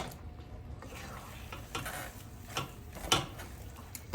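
Moron rice cake mixture being stirred in a pan with butter makes soft, repeated scraping and sloshing strokes, plus a faint sizzle and one sharper clink of utensil on pan.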